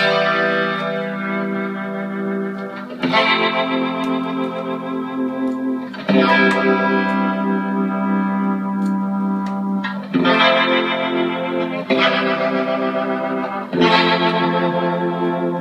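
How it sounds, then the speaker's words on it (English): A sustained organ chord swirls through a Leslie rotary speaker effect, its warble shifting speed, with fresh chords entering every few seconds. "So that's always ready to just push that when I want a Leslie sound."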